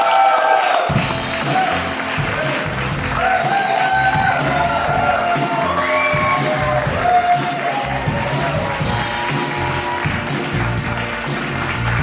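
A live audience at a music show applauds and cheers over several seconds, a dense wash of clapping with whoops and shouts rising through it at moderate distance.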